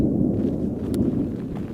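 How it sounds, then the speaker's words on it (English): Faraway gunfire from recreational weekend shooters in the Rocky Mountains rolls as a low, continuous rumbling boom, dull and muffled by distance, with no talk over it. "the weekend warriors are out shooting up a storm."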